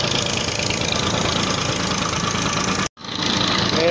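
A tractor engine runs steadily while powering a cotton seed-separating machine in a Pakistani village, a loud, close, continuous rumble with knocking vibration, briefly dropping out before resuming.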